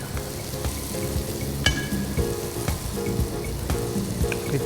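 Raw chicken pieces for Afghani chicken kebab hiss and sizzle in a hot pan, with a continuous close frying crackle, light clinks and stirring scrapes, and no talking.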